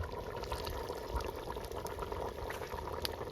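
Rice going into a pot of boiling water for mutton biryani, with a steady, close bubbling and pouring hiss that holds evenly throughout and has no talk over it.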